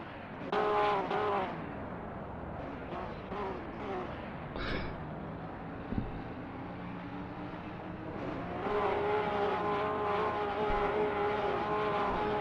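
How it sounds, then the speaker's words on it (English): Porsche 911 race car engines in a sim racing game firing up on the grid at VIR, several engines idling and revving with rising and falling pitch, fairly loud and without talk. "So, well, first drivers are firing up their engines."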